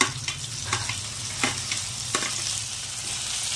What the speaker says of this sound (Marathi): आता याला पण थोडंसं टमाट्याला परतून घेणार आहे.